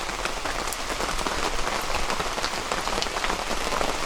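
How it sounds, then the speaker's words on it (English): A steady, loud downpour at an autumn campsite hisses and patters continuously, thick rainfall drumming on nearby surfaces throughout. "definitely a downpour."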